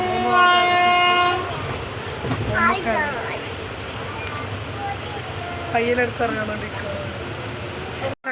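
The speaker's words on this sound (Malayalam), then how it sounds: "ഞങ്ങളിതാ പാലക്കാട് റെയിൽവേ സ്റ്റേഷനിൽ എത്തിയിട്ടോ" Train at Palakkad railway station, a loud horn blast opening over the rumble of rail cars, followed by steady train noise with people talking nearby.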